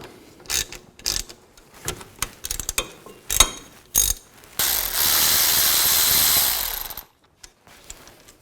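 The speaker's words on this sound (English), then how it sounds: "if the caliper slide is spinning, you can use a 17mm wrench to hold it while you take the bolt out" A ratchet loosens brake caliper bolts on a Chevy Tahoe, first in rapid bursts of clicking, then a steady whirring spin of about two seconds, followed by a few faint clicks, loud and close with no talking.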